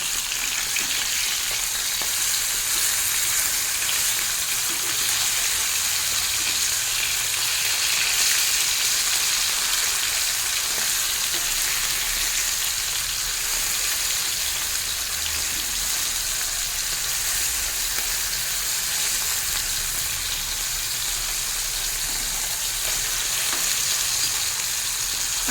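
Small fish fry in a pan for a light fish curry with ridge gourd, giving a steady, dense sizzle and crackle that runs unbroken and close with no talk.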